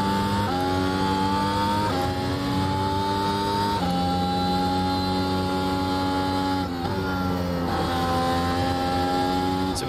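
Formula 1 car engine in the iRacing sim at the Hungaroring, a loud continuous high-pitched whine that steps down in pitch several times as gears change down into a corner, with no talk.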